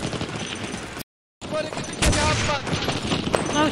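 Gunfire in the World War II shooter Day of Defeat: rapid bursts and single shots crack over game sounds, a short dropout cuts in, and a player talks over the firing.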